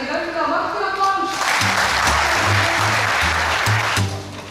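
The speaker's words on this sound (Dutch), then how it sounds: "Mag ik een applaus?" Applause swells in after a short musical bit, a dense wash of clapping that holds steady over a low rhythmic backing beat, then fades slightly at the end.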